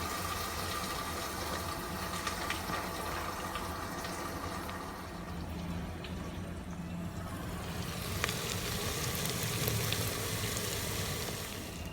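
Chopped onions and green chillies fry in a pan for mutton biryani, giving a continuous dense hiss and low rumble that rises slightly toward the end, with no voices.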